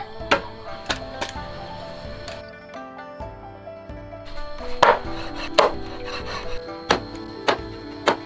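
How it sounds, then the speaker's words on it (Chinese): A cleaver chopping through a duck on a kitchen board, with sharp irregular whacks ringing out over a steady bed of background music, some blows close together and others spaced apart. "我开始砍鸭子了吧。"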